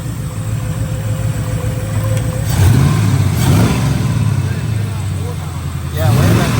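A Foxbody car engine running at a steady rough idle, with a couple of short revs rising and falling, close and loud, while people talk over it.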